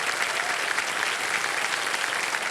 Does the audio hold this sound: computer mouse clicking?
no